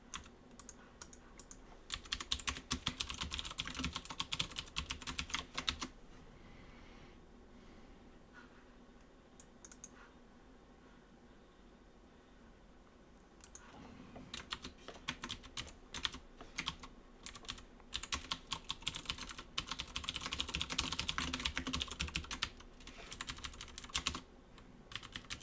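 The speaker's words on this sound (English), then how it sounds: "Typing today." Steady bursts of typing on a computer keyboard, close and moderately loud, pausing for several seconds in the middle before resuming with dense clicking.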